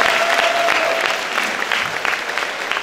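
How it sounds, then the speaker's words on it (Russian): Audience applause rises and holds steady for a few seconds, a dense wash of many hands clapping together, with a faint tone beneath that thins slightly toward the end. "Давайте поддержим аплодисментами."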